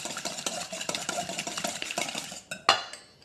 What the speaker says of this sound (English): I'm just going to give them a quick whisk